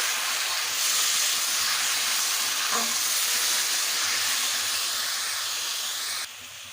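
Pumpkin pieces frying in a pan with a bay leaf, dried chilli and panch phoron give a loud, continuous sizzling hiss, close by, with a faint clink partway through before the sizzle eases near the end.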